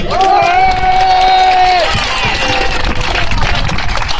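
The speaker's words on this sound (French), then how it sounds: "Applaudissons-le." Crowd at a street demonstration cheering and applauding, a steady loud wash of clapping and whoops with a sustained whistle-like tone early on and voices mixed through it.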